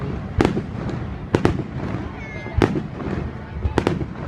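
A fireworks display at Cua Lo for April 30, with several loud, sharp bursts spaced a second or so apart over a rumbling outdoor background.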